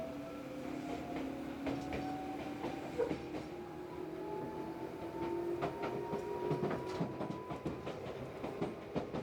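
Interior running sound of a Tobu 8000 series train on the Noda Line: steady low rumble of wheels on rail with a rising and falling motor whine and rhythmic clicks over the joints, heard from inside the car.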